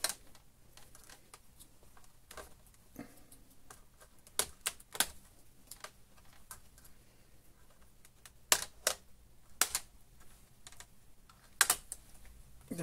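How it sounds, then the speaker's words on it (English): Sharp plastic clicks and pops as a plastic spudger pries the keyboard trim clips loose on a Dell Latitude E6420 laptop, coming as scattered close, crisp snaps with quiet handling noise between them and no talking. "take a plastic spudger like this and run it around the edge. Just basically popping the clips"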